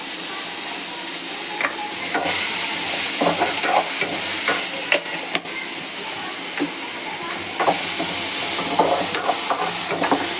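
A paneer butter masala base sautés in a pan with a loud, continuous hiss of frying, broken by repeated scraping strokes of a spoon stirring close by.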